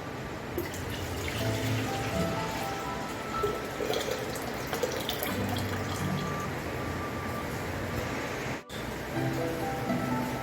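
Tamarind water is poured into a cooking pot for puliyinji, a continuous, moderately loud splashing and trickling that runs for about ten seconds, broken by a brief near-silent gap shortly before the end.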